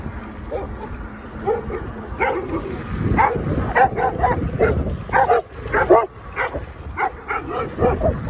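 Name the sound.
dogs barking while chasing an e-bike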